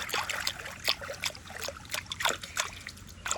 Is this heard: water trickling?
yes